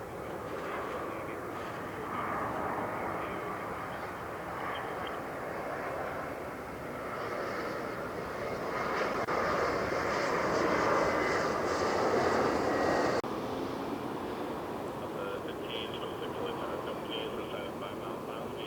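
A Spirit Airlines jet arriving from Philadelphia lands at LAX. Its engine roar builds to a broad, fairly close peak and then eases off, with someone talking over it.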